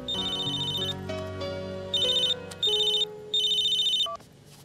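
A telephone rings in repeated electronic bursts, loud and close, over a low background hum with a few faint knocks between the rings.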